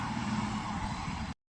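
A fully loaded lorry pulls away from a construction site, its engine a steady, close, broadband rumble that cuts off abruptly after about a second, with no talk.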